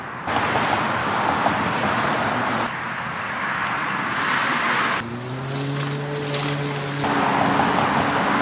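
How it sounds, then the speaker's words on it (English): Hose water spraying across a yard during spring yardwork, a steady broad hiss that runs throughout, with a lower tonal hum and shifting spray intensity partway through; no talking. "I'm gonna finish watering this"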